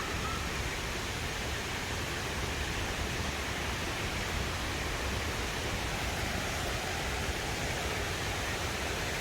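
Steady broadband rush of a waterfall heard while approaching along a walking path in Songkhla, a constant dense roar with no breaks, fairly even and moderately distant.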